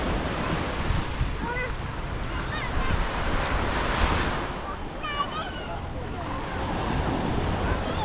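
Surf at Miami Beach in Batu Ferringhi, Penang, Malaysia, washes in as a loud, continuous rush under heavy wind buffeting on the microphone, with faint bird chirps and distant voices.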